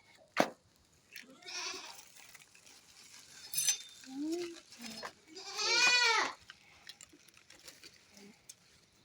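Goats bleat several times at moderate distance, drawn-out wavering cries separated by quiet gaps, with a sharp knock near the start.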